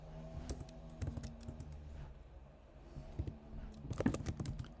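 Keys clatter steadily on a computer keyboard as Python code is typed, with irregular bursts of close keystrokes and brief pauses, alone without talk.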